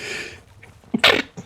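A single short, sharp sneeze bursts out close by after a faint breathy intake, followed by a small exhale.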